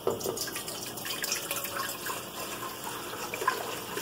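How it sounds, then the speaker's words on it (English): Water runs steadily from a tap into a pot or kettle for lemongrass tea, a continuous splashing fill with light drips, close and alone with no talking. "put some water in here."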